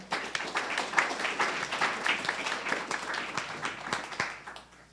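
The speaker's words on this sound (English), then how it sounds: "Let's give them a round of applause" Faint, dense clapping from an audience at a tech talk event, steady and continuous for several seconds before tapering off at the end.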